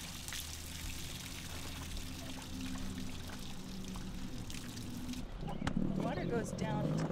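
Water pours and trickles into a garden wheelbarrow in a steady faint stream, with people talking over it throughout.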